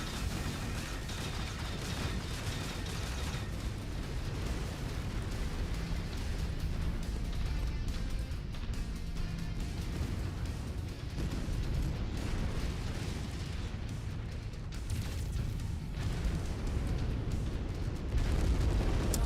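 A long, continuous roar of a target blowing up in the video game Merctech, heavy rumbling blast noise sustained throughout with no speech over it.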